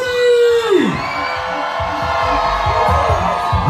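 Wedding guests at a Haitian American reception in an Orlando event center let out a loud, sustained burst of screaming, whooping and cheering that fills the hall, rising sharply and holding steady for several seconds.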